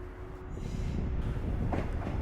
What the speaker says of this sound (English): This is a terminating service from Tokushima. If I'm correct, this is going to be my train back towards Tokushima.